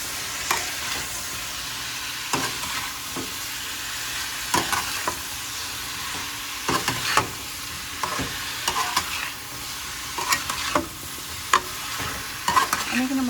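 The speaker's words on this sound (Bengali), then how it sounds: "এখন আমি ভালো করে নেড়ে দিব।" A spoon stirs turmeric and cumin powder through a hot pan for a bottle gourd and prawn dal, with repeated scraping clacks over a continuous sizzle, close and fairly loud.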